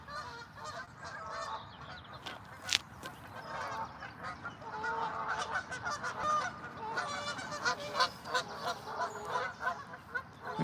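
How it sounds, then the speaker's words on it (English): A flock of geese honks continuously, many calls overlapping at moderate distance outdoors in a park, the chorus thickening in the second half with no voices over it. "I mean, they were geese actually, they're a bit big to be ducks."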